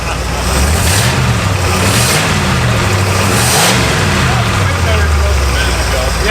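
A formerly seized engine in an abandoned Pontiac luxury car runs loud and close, its low rumble swelling through several revs over a steady idle.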